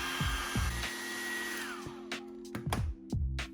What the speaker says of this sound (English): Use a hairdryer to heat the display for around 1 minute